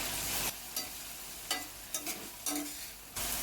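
Onion and tomato sauté in a pan over a gas flame for egg bhurji, giving a steady sizzle broken by short bursts of stirring and scraping, close up and with no voices.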